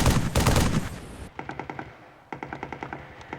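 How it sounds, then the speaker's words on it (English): A loud burst of dense automatic rifle fire in the video game Halo 3, then two rapid, evenly spaced volleys of sharp gunshots with brief pauses between them. "beefy gunfire being fired next to me"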